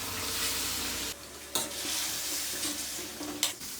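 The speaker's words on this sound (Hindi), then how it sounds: "मसाले को हमने बहुत अच्छे से भून लिया है। अब हमने जो गोश्त बॉईल किया था वो डाल देंगे।" Boiled beef being stirred into a sizzling, frying masala in a pan for dahi beef karahi, with a steady hiss of frying and a few sharp scrapes and clatters of a spoon against the pot.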